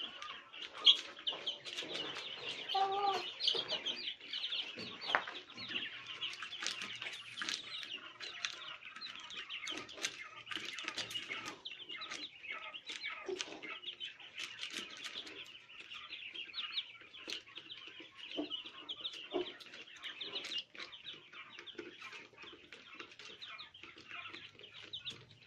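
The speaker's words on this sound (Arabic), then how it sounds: "سامعين صوته يا بنات؟ صوت السمان." Quail kept at home calling in a coop, a scattered run of short, faint chirps and clucking notes repeating irregularly over a quiet background.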